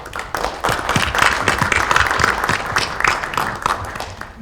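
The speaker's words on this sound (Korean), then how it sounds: "자, 이거 마지막 허용되는 박수 한 타임입니다." Applause rises from the audience at a Kwanhun Club debate with a Democratic Party election campaign co-chair, individual claps crisp and close within a full, lively round that swells and then tapers toward the end.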